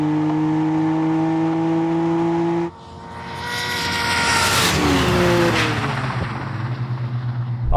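Engines of a Dodge Charger and another car at a drag race hold a steady tone, then cut and surge as they rev and accelerate hard, the loud roar swelling and shifting pitch over several seconds.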